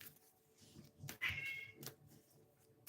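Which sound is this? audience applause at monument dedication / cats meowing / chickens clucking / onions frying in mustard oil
cats meowing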